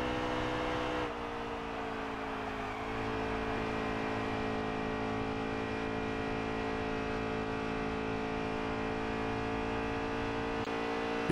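Steady, loud NASCAR race car engine whine at high RPM in NASCAR Heat 3, holding a constant droning pitch with a brief dip early on, no other sounds on top.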